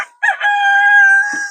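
A single loud rooster crow close by, a sharp start rising into a long sustained call that ends abruptly.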